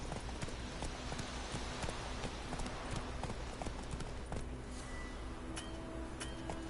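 Roach, a horse in The Witcher 3, gallops in a steady, close clip-clop of hooves that runs the whole way through under a dense, continuous wash of ambient noise.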